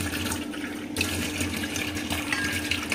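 Water poured into a cooking pot for a banana stem squash recipe, a soft splashing, gurgling stream that starts with a surge and keeps running.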